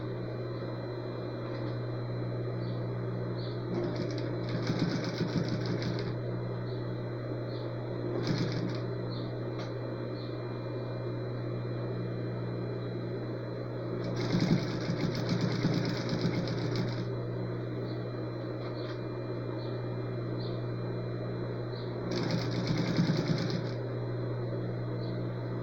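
A sewing machine stitches fabric in short bursts of rapid mechanical whirring and clatter, separated by pauses, over a constant low hum, fairly close, with no talk.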